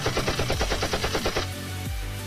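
A rapid-fire fireball launcher in the Minecraft video game fires a fast string of about a dozen evenly spaced, punchy shots, loud and close, then cuts off into a lower lingering rumble.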